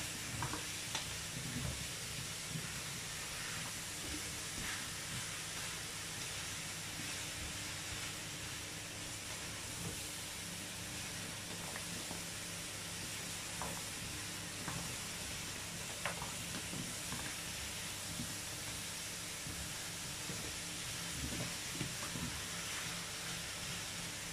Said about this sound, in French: il faut remuer régulièrement parce que sinon, ça brûle, hein?